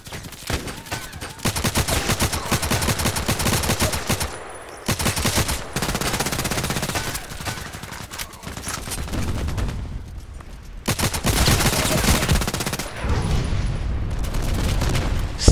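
Rapid automatic gunfire from the online shooter game Contract Wars, loud sustained bursts of shots with short breaks between volleys, filling most of the stretch with no talk.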